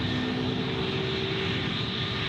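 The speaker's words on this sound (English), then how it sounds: "here's our A321neo. I think it's off to Adelaide with Jetstar." A Jetstar Airbus A321neo jet at Gold Coast Airport gives off a constant, even roar with a steady engine whine, heard from a moderate distance and uninterrupted throughout.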